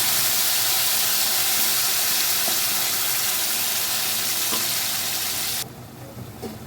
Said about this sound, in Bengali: ফোড়নটা আমার খুব সুন্দর করে ভাজা হয়ে গেছে